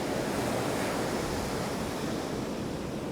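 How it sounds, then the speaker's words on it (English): Ocean surf roars continuously, a broad steady wash of breaking waves with some wind noise over the microphone. "these waves, look at that"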